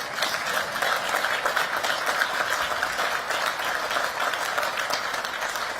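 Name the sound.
audience applause at West Point commencement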